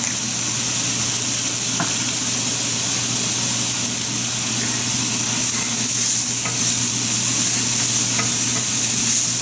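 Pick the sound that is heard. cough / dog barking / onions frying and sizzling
onions frying and sizzling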